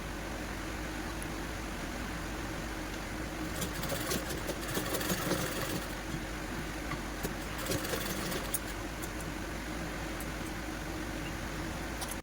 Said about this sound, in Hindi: फिर से हमें कपड़े के ऊपर इसको एकदम पास रख के स्टिच करना है।